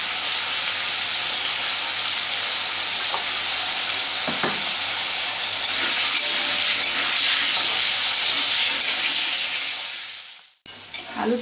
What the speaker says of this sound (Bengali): অল্প নুন আর অল্প হলুদ দিয়ে আলুটা ভেজে নেব।